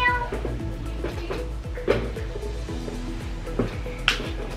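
A pet cat, black and white like an Oreo cookie, meows a few times indoors over a steady low hum, with soft clinks and faint background sounds around it.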